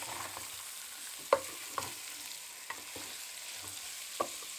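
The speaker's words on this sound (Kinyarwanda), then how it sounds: "tuze dushiramo igitunguru na poivro, bitangiye nabyo tubikarange." Beef fries with onion and pepper in a pan, a soft sizzle broken by several sharp scraping clicks of stirring, close and fairly quiet.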